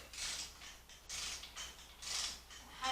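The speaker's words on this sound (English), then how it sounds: "we're just gonna work them down a little by little until they drag" A ratchet tightens the oil pump pickup bolts on a Ford 5.0 small block Windsor engine, giving repeated close, rhythmic clicking and creaking strokes in steady bursts with brief pauses.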